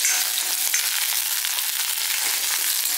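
Grated beetroot for a dosa batter sizzles steadily in a hot pan while being sautéed, a close, continuous frying hiss with faint stirring scrapes and no talking.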